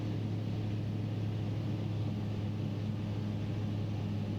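A light aircraft engine holds steady at 5,000 rpm on a flight out of Trento, a constant close droning hum with a strong low tone and no letup.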